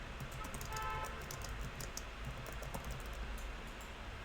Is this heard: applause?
no